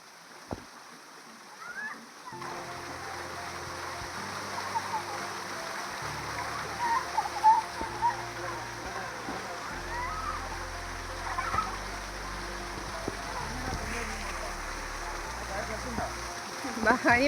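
Water spraying and splashing onto people at a water park, a continuous soft patter and spatter like light rain at moderate distance, with low voices and occasional sounds in the background.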